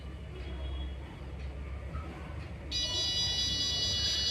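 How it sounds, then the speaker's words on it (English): A faint rumble of background noise gives way to a sudden, steady high-pitched electronic buzz as a door opens, an Arduino door alarm with an MC-38 magnetic reed switch, sounding without a break. "So I open the door, the buzzer starts making sound."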